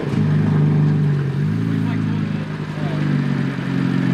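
BMW F80 M3 engine with a stage 2 tune and newly replaced charge pipes runs right after startup, a loud, close, throbbing idle with a slightly uneven, misfiring pulse.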